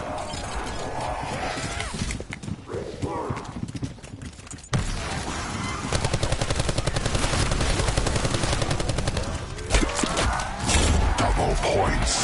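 Rapid mechanical cannon firing bursts from video game audio, rattling repeatedly over a busy background with brief pauses between volleys.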